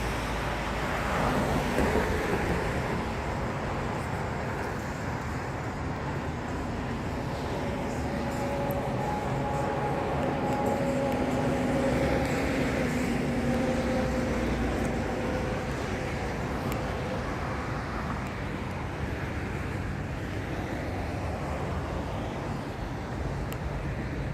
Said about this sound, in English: I hear a train going through the town area